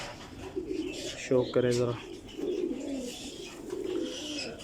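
An original Firozpuri pigeon with a split tail coos in short, low bursts near the middle, close by, while someone talks over the bird.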